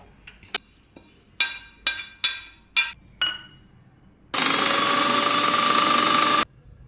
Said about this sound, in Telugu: దీన్ని మిక్సీ జార్లో వేసుకొని కొద్దిగా మిక్సీ పట్టుకోవాలి